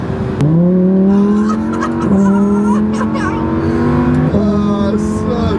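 A car engine revs hard several times, the pitch climbing and dropping in repeated surges. It is loud and close, with excited voices talking over it.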